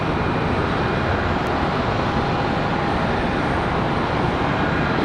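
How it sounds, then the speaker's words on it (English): A Boeing 777-300ER departing Charlotte Douglas International Airport, heard as a steady, loud, broadband jet roar that holds level throughout, with no talk over it. "All right, so we got a 777 300 coming our way for departure."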